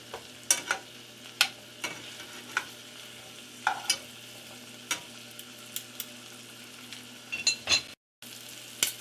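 Shrimp fry in a hot pan with a steady soft sizzle, broken by frequent crisp pops and clicks of spattering oil and stirring, all close and with no talking.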